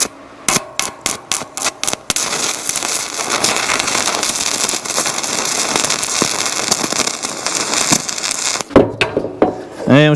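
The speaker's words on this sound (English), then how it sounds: "And with striking arc, you just kind of do a little rub." A cheap mini arc welder starts with a series of sharp, loud crackling taps as the rod is rubbed to strike. It then settles into a sustained harsh buzzing crackle for several seconds and ends with a few bursts and tones.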